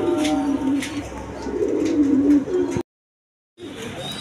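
A pair of short-faced pigeons being sold with eggs, cooing close by in soft, repeated low throaty coos, then a brief silent gap before the sound resumes.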